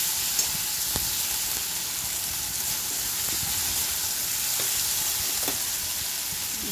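Finely chopped onions and green chillies fry in a pan for a South Indian style potato masala, with a steady close sizzle and a few sharp clicks of a spatula against the pan.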